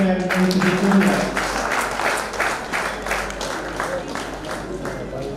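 An audience at a birthday celebration during an anniversary event applauds loudly and steadily, with a voice speaking over the clapping at the start.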